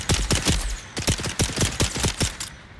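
Gunfire in the desert survival game Dune, a fast string of close, punchy shots in quick irregular bursts, loud and crisp with no talking over them.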